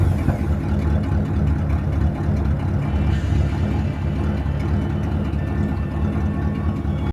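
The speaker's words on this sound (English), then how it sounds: "Let's go ahead and crank it over." A 1978 Dodge engine, freshly fitted with a new fuel pump and filter, runs at a steady close idle with a dense low rumble throughout and no voices.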